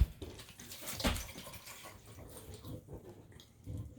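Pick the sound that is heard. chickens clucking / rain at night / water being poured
water being poured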